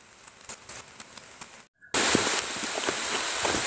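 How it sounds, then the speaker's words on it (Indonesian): Heavy rain falling outdoors during micro fishing, lighter patter at first, then after a brief gap a dense, loud, constant hiss of downpour with scattered drop hits. "Hujan saudara, deras banget."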